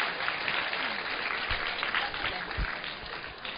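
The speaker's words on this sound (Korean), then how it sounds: "박수 한번 쳐주세요." Middle school students at a school talk program give a round of applause, a thin, fairly distant wash of clapping with a few heavier thumps.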